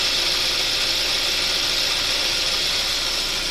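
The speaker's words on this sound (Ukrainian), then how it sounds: "А так двигунчик працює гарно" A 2015 Kia Optima 2.4 GDI engine idling after injector cleaning: a steady, even hum with a constant hiss, running at rest without revving, no voices.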